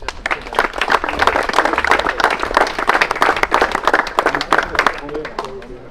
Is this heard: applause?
yes